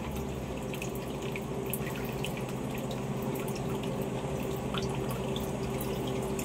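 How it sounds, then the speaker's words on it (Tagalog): A tap left running during a dog's bath gives a steady, even stream of water splashing into a basin, fairly faint and constant, with a few light drips and clinks over it. "Di mo pinatay yung tubig."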